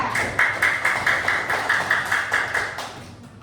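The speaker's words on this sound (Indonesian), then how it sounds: "Kita berikan tepuk tangan untuk kelompok 3." Fourth-grade pupils in a classroom clap together in a steady, even rhythm for a student group, roughly a dozen sharp, close claps at a brisk regular beat, with no talking over them.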